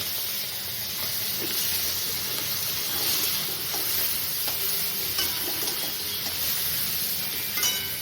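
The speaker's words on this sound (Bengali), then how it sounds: "চিংড়ি মাছগুলো আমি ভেজে নিচ্ছি।" Prawns frying in hot oil in a kadai, a dense continuous hiss and crackle with a few faint stirring clicks, close and steady throughout.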